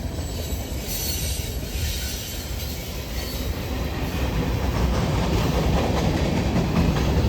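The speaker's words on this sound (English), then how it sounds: "the train of the night is on the way" A long Norfolk Southern freight train rolls steadily past near Gaffney, South Carolina, a continuous loud rumble of wheels and railcars with squealing and clickety-clack, heard close by with no talking.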